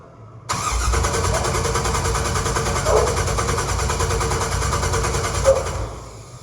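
A freshly swapped 6.2 litre LS V8 in a 1968 Camaro fires up abruptly after a short crank and settles into a loud, steady idle, with two small blips of throttle along the way.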